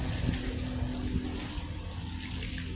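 Water runs steadily as an elephant is bathed outdoors, a continuous splashing wash of moderate loudness with no speech over it.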